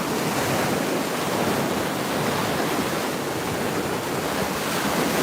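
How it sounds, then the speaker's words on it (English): Ocean waves break continuously on a seaside shore, a loud, dense wash of surf with wind noise on the microphone and no talk. "Look, those are some great waves"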